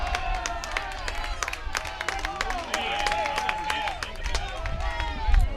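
Baseball crowd at a regional championship game cheering and clapping steadily, a dense roar of applause and shouts from many spectators under a commentator's voice.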